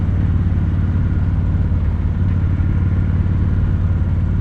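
A 2016 Victory Judge cruiser motorcycle fitted with performance exhausts rides along, its engine giving a steady, loud, close rumble with a pulsing low throb throughout and no talking.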